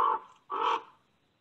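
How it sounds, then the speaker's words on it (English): Crows cawing in a backyard in Santa Fe, two loud harsh caws close by, the second longer and rougher, separated by a short gap and followed by quiet. "Cawing crows."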